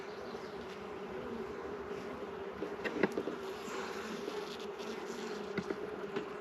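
Honeybees buzzing steadily around an open hive during an inspection, a dense continuous drone close by with occasional louder passes of individual bees and no talk.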